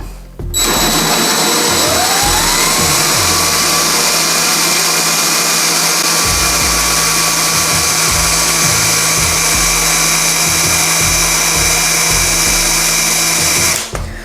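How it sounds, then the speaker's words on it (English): A power drill whines loudly and continuously, its pitch shifting slightly early on, with gritty grinding against ceramic tile throughout. "So we'll carry on drilling and slowly start to tip that drill bit up."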